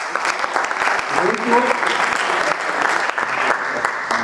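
An audience at a panel event on mass media applauds a speaker, a loud, full round of many hands clapping that holds steady from start to finish, with a voice heard over it.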